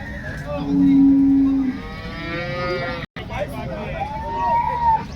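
A calf moos loudly and close by at a cattle market, one long low call followed by rising, wavering bellows, with crowd chatter and voices underneath.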